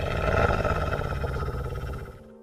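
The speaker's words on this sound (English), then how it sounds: "A low growl." A low, rumbling growl sound effect in a horror narration, deep and close, rolling for about two seconds before fading out.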